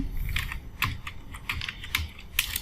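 Fingers type on a computer keyboard, a close run of quick, uneven key clicks with a few sharper taps.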